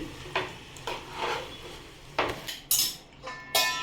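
Chicken biryani stirred in a metal pot with a spoon, giving several scraping clinks of utensil against the pot, followed by sharper metallic clatters as a lid goes on, close and fairly loud with no talk.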